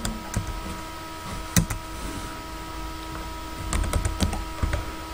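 Keys tapped on a computer keyboard while a student's name is entered during an IT tools practical exam, a sparse run of light clicks with a few sharper strokes over a steady electrical hum.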